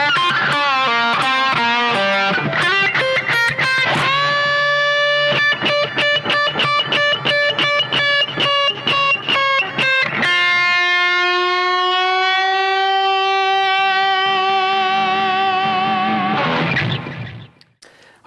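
Electric guitar plays the closing phrase of a solo, starting with rapid picked notes, then a long bent note held with vibrato that rings loud and alone before fading out.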